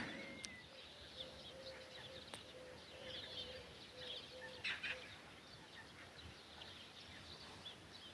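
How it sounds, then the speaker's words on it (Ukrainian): Faint birdsong at dawn at a distance, scattered chirps and soft cooing over a quiet, steady outdoor hush. "Пташки прокидаються починають співати"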